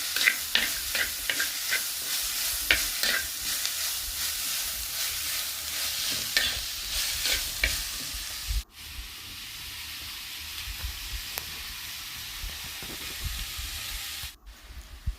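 Small shallots sautéing in a pan for Kerala-style beef curry, stirred with repeated scraping strokes over a steady close sizzle that continues alone after the stirring stops, with two brief abrupt cuts.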